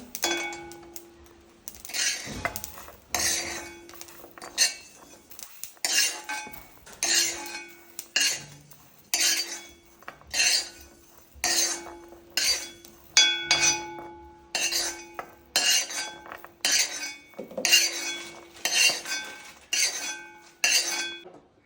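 Fried green chilies are scooped out of a pan with a metal ladle, making repeated rhythmic scraping and clinking strokes against the pan and plate, close and steady, with no speech.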